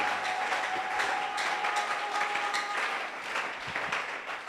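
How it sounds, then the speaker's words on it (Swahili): A church congregation applauds and acclaims the Lord during a sermon, a steady, moderately loud wash of clapping with a faint thin tone running underneath. "Est-ce qu'on peut acclamer le Seigneur?"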